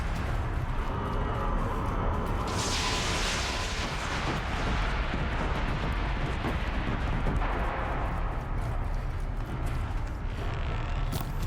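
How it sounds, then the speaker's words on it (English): A machine's missile launcher is blown up in Horizon Zero Dawn, a loud sustained rumbling blast that swells with a bright burst partway in and keeps roaring with debris and crackle for several seconds. "Just wanted to blow up one of his missile launchers"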